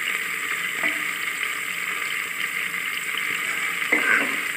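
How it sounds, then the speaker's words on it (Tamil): Coriander and mint frying in hot oil for tomato rice give a steady, close sizzle that runs unbroken, with a couple of brief stirring scrapes and no talking. "கொத்தமல்லி, புதினா எல்லாமே அந்த எண்ணெயில் வதங்கிறது"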